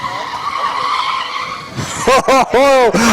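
Formula SAE race car oversteering on a skid pan, a broad engine-and-tyre roar fading out, then several sharp rising engine revs in quick bursts near the end, loud and close, with brief commentary.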